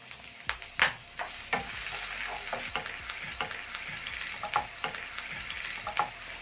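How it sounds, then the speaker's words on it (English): Chopped onion hits hot oil for sukuma wiki, collard greens, setting off a steady sizzle punctuated by sharp spatula knocks and scrapes as it is stirred, close and clear with no talking. "Once your oil is hot, you're going to add in your onion."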